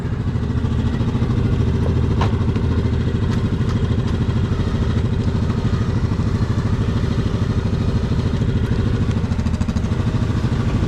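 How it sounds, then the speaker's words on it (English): A Yamaha Grizzly SE ATV, a 2024 model, runs its winch to drag a fallen tree off a trail, with a steady mid-pitched engine drone, occasional clatter and thuds, loud and continuous throughout with no talking. "We got a tree down across the trail here, so we're gonna winch her out of the way"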